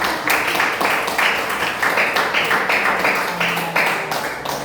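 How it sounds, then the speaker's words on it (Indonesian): A classroom of students claps for two student groups, a steady run of fairly loud, rhythmic hand claps filling the whole stretch with no talking over it. "Tepuk tangan buat kelompok 2 dan kelompok 3"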